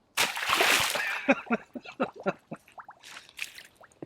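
Water splashes and sloshes up close as something is rinsed off, starting in a loud rush and then breaking into scattered splatters and drips.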